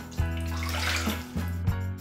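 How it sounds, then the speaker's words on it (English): Warm water poured into a food processor bowl for pizza dough, a steady splashing pour lasting about two seconds with a couple of brief bumps, close and fairly loud. "I'm gonna put 1 cup of warm water in."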